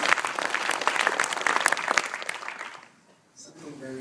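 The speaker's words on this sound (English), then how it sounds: "But if you want to have a clap," An audience at a public conversation event claps for about three seconds in dense, fairly loud applause, which fades quickly into near silence before a voice begins speaking.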